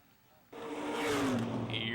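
A field of dirt-track race cars roars to life at a motor speedway, a sudden loud surge of engines revving and accelerating together that swells and holds, with a crowd-like wash behind.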